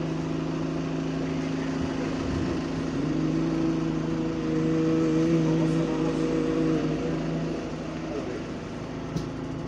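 A high-pitched idle from a bus engine with a turbo air leak on route 226, a steady whine layered over a low engine drone, close and fairly loud throughout, with a passenger voice briefly speaking over it.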